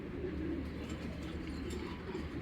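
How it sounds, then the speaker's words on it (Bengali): A young male Giribaz pigeon coos in low, steady murmurs at close range, faint under a constant background hiss, with no talking. "কবুতরটা দেখেন"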